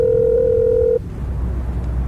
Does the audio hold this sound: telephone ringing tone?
yes